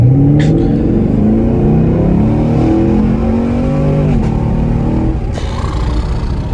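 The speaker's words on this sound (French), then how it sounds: "tu donnes un coup de gaz" A car engine rises and falls in pitch with a throttle blip, a loud and close continuous drone with a steady rumble and no speech.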